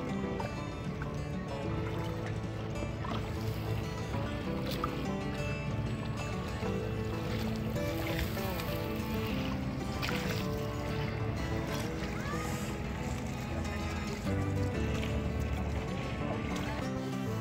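A shikara boat glides on Dal Lake in Kashmir at dusk. Continuous water lapping and paddling wash forms a steady, moderately loud ambience, with faint voices in the background.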